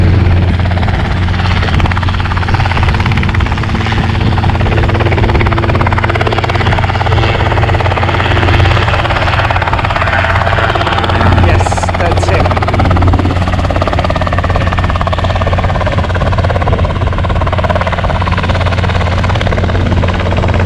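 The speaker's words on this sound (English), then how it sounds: "Yes, he's taking off again." Light aircraft engine droning steadily as the plane takes off again after an annual inspection test flight, a loud continuous buzz with a deep low hum, no pauses.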